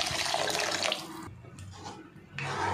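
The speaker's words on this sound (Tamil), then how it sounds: "இப்போ இந்த சென்னா கிரேவிக்கு தேவையான அளவு எக்ஸ்ட்ரா கொஞ்சம் தண்ணி சேர்த்துக்கலாம்." Water poured steadily into a pan of chana masala gravy, a continuous close splashing stream that briefly thins and then surges again, with no voices.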